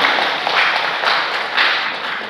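An audience at a curriculum outreach event in Bengkulu claps together in a dense, steady wash of applause that swells and eases slightly over a couple of seconds, loud and close.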